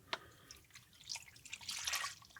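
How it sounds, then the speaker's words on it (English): A brine of vinegar, sugar and water is poured over vegetables, a soft close trickle with small drips and splashes. "all we gotta do is pour that over our mixture"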